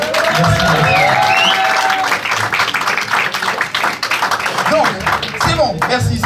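A comedy club crowd claps steadily, loud and dense, and the applause thins toward the end while voices carry over it.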